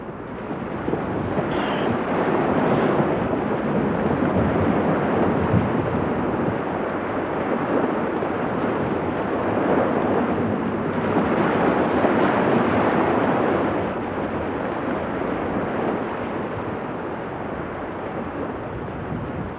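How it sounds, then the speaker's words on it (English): Storm-driven waves pound a lake shore in Ladakh, a dense, roaring wash of water that surges and eases in long swells, with wind noise mixed in and no voices. "But the buffeting waves of Somarari are too strong, and the grebes are forced to abandon their nest."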